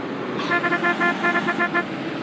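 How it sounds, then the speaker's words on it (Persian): A car horn in the MTA multiplayer game sounds in a quick series of short, loud toots, roughly ten honks in a choppy rhythm over a low engine hum. "واسه بوغم داره"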